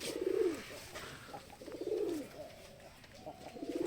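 Male pigeons in a loft during the winter breeding season coo in repeated soft, rolling phrases, close and fairly quiet, with faint background noise between calls.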